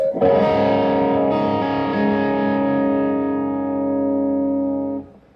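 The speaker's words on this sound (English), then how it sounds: "take that one very resonant chord and strike it without the chorus effect" Resonant guitar chord struck once without chorus, a loud clear strum ringing out with steady sustain for nearly five seconds before being cut off, dry and close, no talk.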